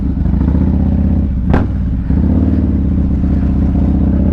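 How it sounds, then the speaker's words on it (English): Harley-Davidson Street Glide motorcycle riding on a road in February, its engine rumbling loudly and steadily, with a brief whoosh of passing traffic midway. "we are out riding these motorcycles today"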